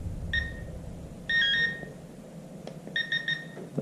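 A Garrett Pro-Pointer AT metal detector pinpointer gives short high electronic beeps in clusters of one, two and three while its settings are changed, close and clear over faint handling noise without talk.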